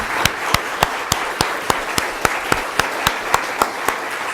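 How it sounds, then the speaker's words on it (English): Sparse applause at a candidate forum for Hastings mayor, with a steady rhythm of evenly spaced loud claps, about four per second, over a faint room background. "How about a round of applause for our candidates for mayor?"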